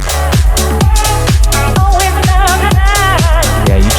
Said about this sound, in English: The distortion would sound like this.